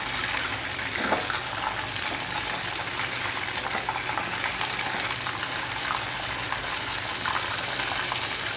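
Chicken frying in a pot for nihari gives a steady, soft sizzle and bubbling hiss, continuous and fairly quiet, with a brief clink of a utensil early on.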